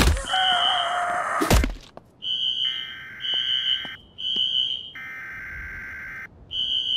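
An electronic alarm sounding in the survival video game VEIN, loud repeated two-tone electronic beeping in regular pulses, preceded by a heavy thud and a brief noisy clatter, with no talking.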